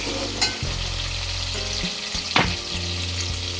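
Chopped tomato frying in a pan for a Marathi yelavani amti sizzles steadily up close while a spoon stirs and scrapes it with a few distinct knocks.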